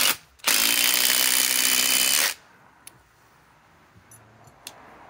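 A Milwaukee M18 Fuel Gen 4 2953-20 impact driver on a 6 amp Forge battery drives a TimberLok screw in one loud, continuous hammering burst of about two seconds, then stops, leaving faint ticks and clicks.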